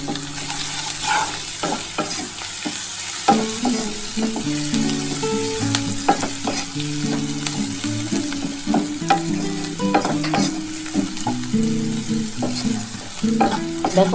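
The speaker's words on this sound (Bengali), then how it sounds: "দেখো আমার পেঁয়াজটা কিন্তু ভাজা ভাজা হয়ে এসছে" Onions fry in a pan for a Bengali posto bhaja, a constant bright sizzle underlying repeated scraping strokes of a spatula stirring the contents, close and clear with no talking.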